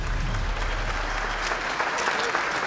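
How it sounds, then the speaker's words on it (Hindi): Loud crowd applause for Devika Bhabhi as she enters a village wrestling match, a dense, steady wash of clapping from many people throughout, with voices mixed into the din. "देविका भाभी के लिए जोरदार तालियां"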